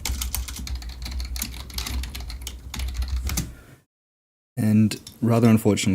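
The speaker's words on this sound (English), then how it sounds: "the keyboard will probably be loud" Rapid clattering keystrokes on a loud computer keyboard fill the first few seconds, followed by a brief silence and then someone talking.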